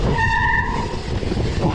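A dirt jump bike's tire skids under hard braking, giving a loud, close squeal that fades into scraping rumble.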